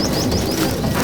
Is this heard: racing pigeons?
yes